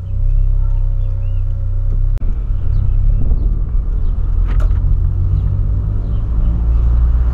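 A Volkswagen Polo pulls away with a loud, continuous engine rumble heard from inside the car. A brief knock breaks the drone partway through, and no one speaks.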